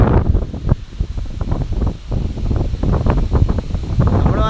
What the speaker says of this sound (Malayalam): ഒരു രക്ഷയില്ല. ഒടുക്കത്തെ കാറ്റ്